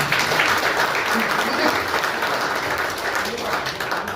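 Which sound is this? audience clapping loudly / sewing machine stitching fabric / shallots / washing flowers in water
audience clapping loudly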